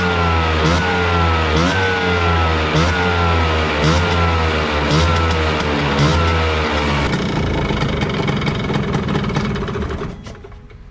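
A tuned Vespa scooter engine block fires up for its first start and revs loudly and steadily with rising and falling pitch, then drops into a rougher, fading run toward the end.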